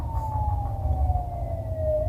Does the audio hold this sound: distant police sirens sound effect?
yes